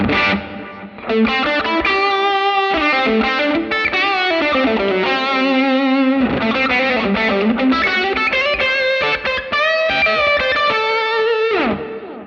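Electric guitar played through a Line 6 Helix moves between clean, clean ambient, clean with overdrive, and overdriven ambient tones, ringing chords and sustained notes loud and continuous, with no talking.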